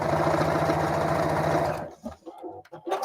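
Sewing machine stitching flannel strips, a steady rapid mechanical whir for almost two seconds that then stops, leaving faint handling noises.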